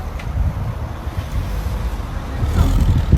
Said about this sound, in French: Regarde la voiture comme elle est énervée